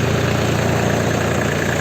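A village tractor's engine runs at a temple site during a cleanup. It gives a constant low, throbbing idle that stays loud and close throughout, with no voices.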